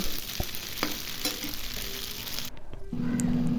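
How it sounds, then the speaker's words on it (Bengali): Kebabs fry in an air fryer without oil, a steady broadband sizzle and hiss with a few soft knocks, cutting out briefly before a low hum returns. "তো দেখুন আমি এখানে এটা আবার সন্ধ্যার জন্য নাস্তায় কাবাব ভাজতেছি এয়ার ফ্রায়ারে।"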